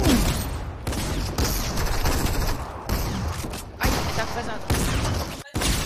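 Rapid gunfire in a Fortnite match, bursts of shots and heavy impacts crackling loud and close in quick succession, with brief pauses between volleys and players talking over the action.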